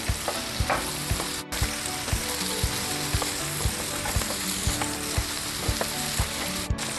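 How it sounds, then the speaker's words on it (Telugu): Ivy gourd with salt and turmeric sizzles loudly in a frying pan while a spoon stirs it in quick, regular scraping strokes, heard up close throughout. "ఇప్పుడు కలుపుకుందాం"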